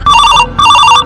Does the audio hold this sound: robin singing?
no